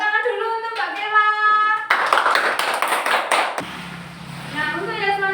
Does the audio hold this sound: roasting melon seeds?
no